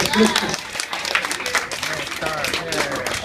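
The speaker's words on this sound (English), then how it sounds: "Everybody clapped." An audience at a live animal show claps briefly, scattered applause blending with a voice talking over it.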